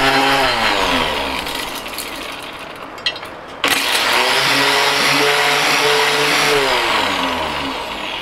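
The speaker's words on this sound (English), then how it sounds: "so far, the Mighty Mill has handled everything I've dumped in it" A Mighty Mill rock crusher grinding small hammered chunks of quartz from a Wyoming mountain vein, a loud, continuous engine-driven roar with a steady grinding rumble, dipping briefly midway before surging back to full strength.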